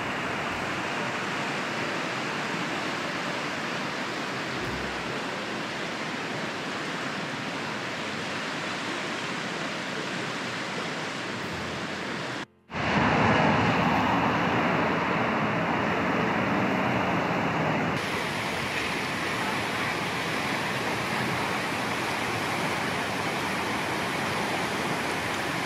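Ketchikan Creek in Alaska rushes and roars as flowing water, a dense steady broadband wash, loud and continuous with a brief cut partway through, and no talk.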